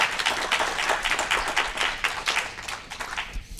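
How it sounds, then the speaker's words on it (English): Audience applause for a presenter at a medical symposium on malignant mesothelioma, a steady dense patter of many hands clapping from start to finish, fairly loud and continuous with no voices over it. "So again, a round of applause for Dr."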